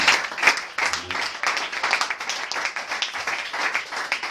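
Applause from a church congregation during a Sunday service sermon, a dense wash of clapping that carries on steadily throughout, with occasional voices mixed into the crowd.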